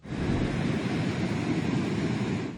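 Floodwater rushing across a road after a dam overflowed in heavy flooding, a steady loud roaring wash with a windy rumble that continues unbroken throughout.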